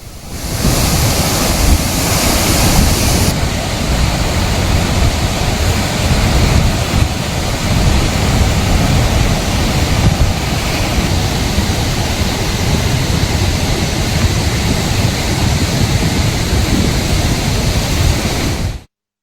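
Flood water rushes out through 24 raised gates of a reservoir project, a loud, constant roaring wash of turbulent water that holds steady with no voices until it cuts off abruptly at the end.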